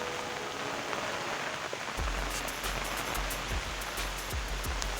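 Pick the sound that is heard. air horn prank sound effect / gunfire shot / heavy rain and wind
heavy rain and wind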